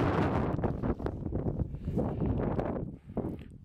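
Strong wind gusts buffet the microphone on a mountain ridge near the Jalouvre in the French Alps, roaring in loud, uneven surges for a few seconds.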